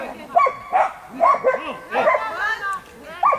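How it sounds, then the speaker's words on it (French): Dogs bark and yip in short, repeated bursts at a motorcycle gathering, close by and mixed with chatter and background noise. "Bon, les chiens, ça dégage là?"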